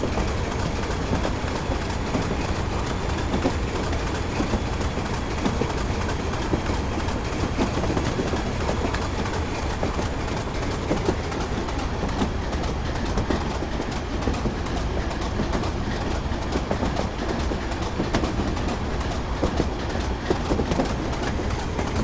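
A train running on rails in Train Simulator 2015 on the Darlington to Durham via Bishop Auckland route: a continuous rumbling roll with faint rhythmic clatter, steady and loud throughout, with no voices.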